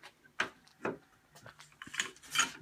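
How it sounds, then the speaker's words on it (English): A car jack's mechanism clicks and ratchets as it is lowered, a few quiet, irregular metallic ticks and clunks close by, alone without talk. "Now you bring the jack down."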